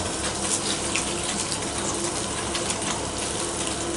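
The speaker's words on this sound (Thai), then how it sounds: "ผมเปิดน้ำ" A tap runs water continuously for washing a human-hair wig, giving a steady, close hiss and splash with no break and no voices.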